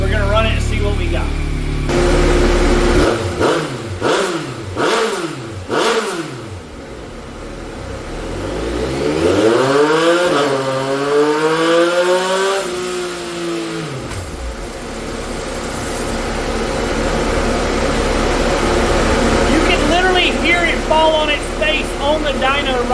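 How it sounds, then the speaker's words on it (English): A 2025 Yamaha XSR 900 with an aftermarket exhaust, stock ECU, revs loudly on a dyno: sharp repeated blips early on, then a long rising pull through the gears, with talk over parts of it. "Let's see what kind of horsepower this bike makes with just the exhaust system bolted on, stock ECU"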